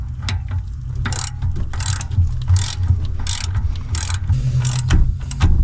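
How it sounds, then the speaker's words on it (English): A harmonic balancer bolt being cranked down to seat the crankshaft sprocket on a 2011 GMC Yukon Denali Hybrid, heard as repeated close ratchet clicks in short bursts over a low engine-bay hum. "We'll thread that in there and we'll crank her down to get that sprocket fully seated there."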